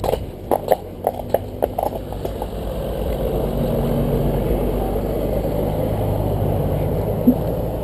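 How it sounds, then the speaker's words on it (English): A horse's hooves clop at a walking pace, then a motorbike engine swells into a steady drone, rising as it nears and holding close through the end. "here's a motorbike"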